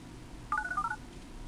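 A cell phone speed-dials voicemail, sounding a quick run of several short DTMF beeps in a row, crisp and close with no talk over them.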